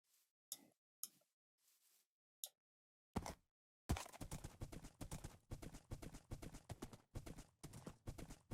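Horse hooves clip-clopping in the Minecraft game, a few sparse clicks at first, then a steady, fast run of crisp hoofbeats close by with no talking.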